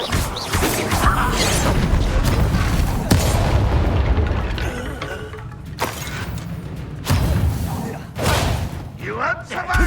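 Confringo spell explosions in Hogwarts Legacy pound repeatedly in a loud, continuous battle, with heavy booms and rumbling impacts layered over dense game noise and shouts.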